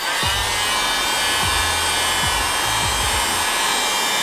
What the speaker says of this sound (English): You're gonna go ahead and grab your heat gun.